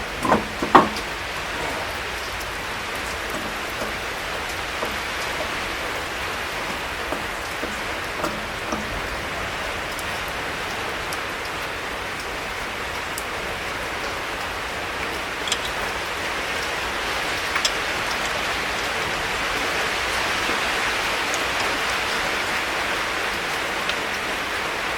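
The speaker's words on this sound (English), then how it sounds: "Sure wish it would stop raining, because I've got things to do." Steady rain falls outdoors during a minivan tune-up, a constant broadband hiss of drops striking surfaces with a few sharper nearby taps, moderately loud and continuous with no talking.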